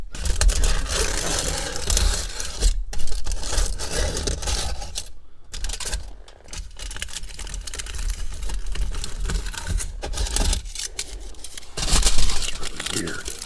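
A knife scrapes and scratches at a tough, foil-like metallic sheet in a close-miked ASMR role-play, a dense run of rasping, crinkling strokes broken by brief pauses, with speech heard faintly now and then.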